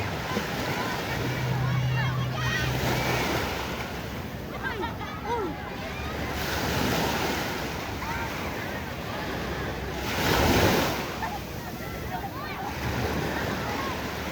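Ocean surf rolls in at Patar Beach in Bolinao, a steady wash of waves with breaking swells and light wind, while people talk and children play in the background.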